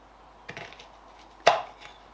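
A knife slices thin spring onion on a cutting board: two crisp, close strikes about a second apart, with near silence in between.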